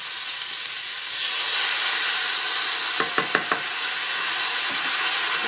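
Coconut milk poured into a hot pan of sauteing onions, giving a steady loud sizzle and hiss with a few brief stirring clatters partway through.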